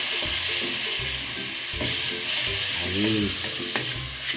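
Shrimp frying with browned garlic in a pan for a shrimp pasta, a continuous close sizzle with stirring clatter and a brief voice over it.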